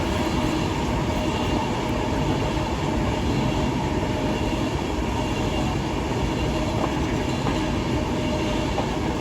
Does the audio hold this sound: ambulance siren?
no